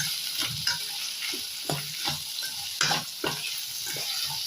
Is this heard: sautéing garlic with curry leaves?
yes